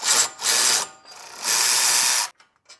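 A power tool whirs in three bursts of roughly half a second to a second each, loud and close, removing 16 mm brake caliper bolts on a car, likely a Mini R53, with brief mechanical clicks after the last burst and no talking.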